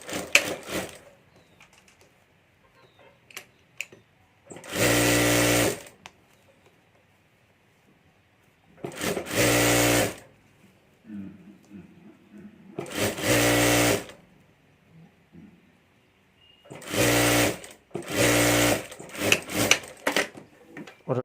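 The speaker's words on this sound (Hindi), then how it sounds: "और यहाँ हमें सिलाई कर देनी है।" A domestic sewing machine stitches a folded fabric bag handle in four loud, steady bursts of rapid whirring, with quiet pauses and small handling noises between runs.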